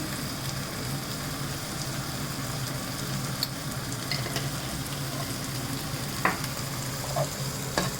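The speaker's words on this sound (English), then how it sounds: "Give it a quick stir." Turmeric and red chili powder being stirred into frying oil in a pan for brown bread upma, a steady soft sizzle with a few light scrapes of the spoon near the end.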